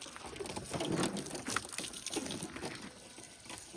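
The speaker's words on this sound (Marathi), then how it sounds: "हाण पाणी जरा आंघोळ घाल जरा गाडीला" Water splashes and gushes steadily over a vehicle during a morning wash, a continuous close wet spray with uneven surges and no voices.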